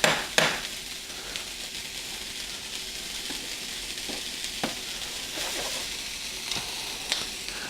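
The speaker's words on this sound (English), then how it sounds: "The sausage I have here is a nice pork sausage. Only a bit of spices, nothing too crazy. We're going to let this saute a bit." Lightly spiced pork sausage sautés in a pan with a soft, steady sizzle, broken by occasional clicks and scrapes of stirring; the frying is fairly faint and there is no talking.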